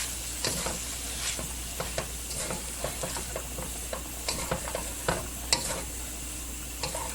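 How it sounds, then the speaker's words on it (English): Tomatoes stirred in a sizzling pan, a soft continuous fry with repeated sharp clicks and scrapes of the utensil against the pan, close and unhurried, with no voices. "now I'm gonna add in my tomatoes. Give them a stir in here."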